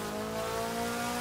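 A car driven in Forza Horizon 4, its engine holding a steady droning hum at an even loudness with no voices over it.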